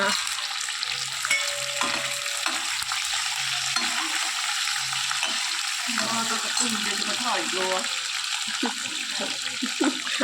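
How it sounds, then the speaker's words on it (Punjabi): Capsicum frying in a hot tempering for chilli paneer, a steady loud sizzle and crackle running the whole way with occasional stirring scrapes, no talk over it. "ਲੱਗ ਗਿਆ ਤੜਕਾ ਲੋ ਜੀ ਪਾਤੀਆਂ ਸ਼ਿਮਲਾ ਮਿਰਚਾਂ"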